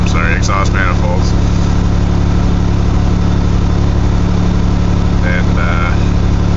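A carbureted 1982 GMC S-15 idles loudly with a steady, throbbing low drone, harsh from a cracked exhaust manifold, close and continuous, with someone speaking briefly over it.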